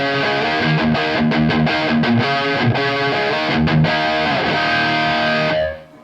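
Electric guitar played through a modded Victory Super Sheriff VS100 amplifier, a tight, distorted, high-gain tone with palm-muted chugs and stabbed chords, loud and alone before a quick fade at the end.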